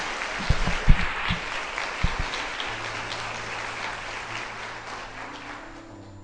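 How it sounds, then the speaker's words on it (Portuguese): A crowd at a church prayer group meeting claps for several seconds, a dense patter of applause with a few sharp thumps, fading into a low hum. "aplauda a palavra do Senhor"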